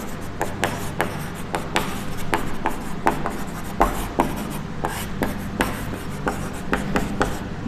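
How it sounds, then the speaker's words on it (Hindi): Pen or chalk writing during a class 10 math lecture, a steady run of quick scratchy strokes and taps close up, irregular in rhythm over a low background hum, with no talking. "अब हम इसमें ये लिखेंगे।"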